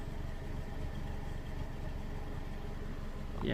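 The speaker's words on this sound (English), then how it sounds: "now that the idling came down to where it should be" A Ford Ka Limited Edition 1.2 with a misfire idles steadily in a garage, a close, even low rumble throughout, swelling slightly louder at the very end.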